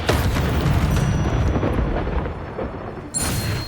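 Incendio fire spell cast in a Harry Potter video game, a loud roaring fiery blast that sustains for several seconds before a brief sharp flare near the end.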